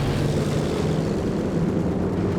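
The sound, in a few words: airplane flying over in video game Company of Heroes 2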